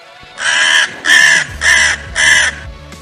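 A cartoon crow caws four times in a steady rhythm, loud and close, each harsh call lasting about half a second with short gaps between.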